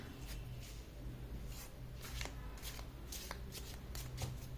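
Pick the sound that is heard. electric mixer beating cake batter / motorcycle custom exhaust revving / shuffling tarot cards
shuffling tarot cards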